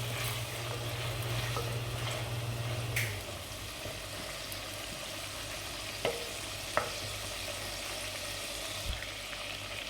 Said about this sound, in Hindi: चिकन और लहसुन अदरक हो गया फ्राई।